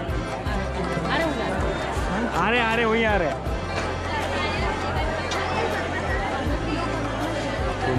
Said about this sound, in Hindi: दोस्तों ये आप देख ही सकते हैं कितनी ज़्यादा भीड़ है दोस्तों